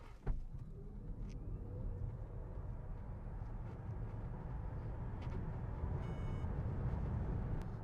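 Cabin noise of a Smart #1 BRABUS electric car accelerating hard from 0 to 60, a steady rising road and motor hum with a faint click at the start and faint beeps later.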